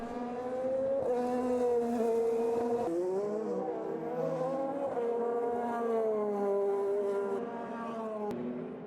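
An IndyCar race car at the 2015 Detroit dual race, its engine holding a loud, steady high-pitched drone with rising and falling pitch sweeps as it accelerates and shifts along the street circuit, close and continuous.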